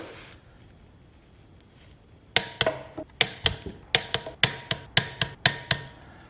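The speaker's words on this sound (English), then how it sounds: "I'm going to take these to the proper torque spec." A torque wrench tightens Loctited flywheel bolts on a turbo LS4 V8 in a Pontiac Fiero build, giving about a dozen sharp, close metallic clicks in a steady rhythm after a quiet lead-in.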